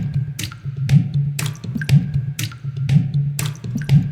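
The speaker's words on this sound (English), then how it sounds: "Just like water splashes, which is just lovely." Rhythmic water-splash percussion samples in a steady looping pattern, each hit followed by a bright, sloshing spray over a low pulsing tone.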